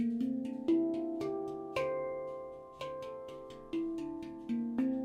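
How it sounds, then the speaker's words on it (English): Melodic metallic handpan tones struck one at a time, each ringing out with a long shimmering decay, in an unhurried sequence of notes. "as you're discovering your handpan, you're hearing it."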